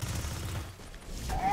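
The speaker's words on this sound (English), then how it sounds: "It's a fusion rifle." A fusion rifle fires in a video game: a short, low rumbling burst that ends in a rising electronic whine.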